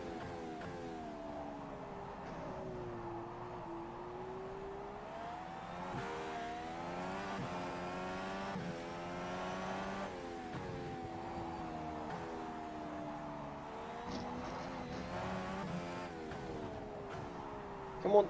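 Indy car engine in the rFactor 2 sim racing game, heard as a steady, continuous engine drone with rising and falling revs through gear changes, loud and alone for the whole stretch.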